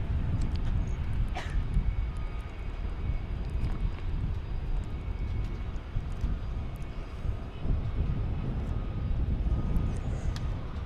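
Japan Airlines A350 airliner taking off from runway 18 left at DFW, a steady broadband jet roar heard from a distance, constant and unbroken throughout with little variation.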